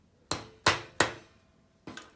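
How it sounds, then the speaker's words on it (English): A hammer taps rivets on a 1954 Westclox Orb clock in four sharp, close metallic strikes, three in quick succession and then a fourth after a pause, each ringing briefly. "I did overkill with the hammer, looking back at the video, so I'm just going to give this a few taps, not like 30"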